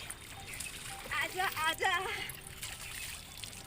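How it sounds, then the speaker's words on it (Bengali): Water splashes and trickles while someone bathes in the Ganges river, with soft sloshing and dribbling under a faint background hum, and a person speaks briefly over it. "গঙ্গাতে স্নান করতে খুব মজা হচ্ছে"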